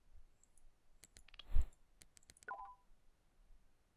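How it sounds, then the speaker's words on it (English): A machine apparatus in the video game Leviathan switching on, a quiet run of sharp clicks and beeps with a soft thump in the middle and a short tonal chirp near the end, heard alone. "Oliver puts the stone into the apparatus and turns on the machine."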